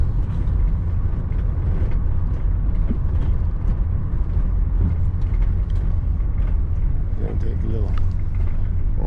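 A car rolls along a road near the Salmon River in Idaho, with a steady loud engine rumble and road noise filling the cabin from start to finish.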